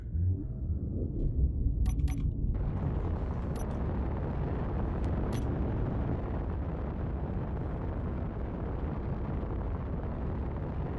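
A spaceship engine in Space Engineers firing up: after a few quiet electronic blips, a deep, steady roaring rumble kicks in and holds loud and constant, like sustained thrust, with no talking.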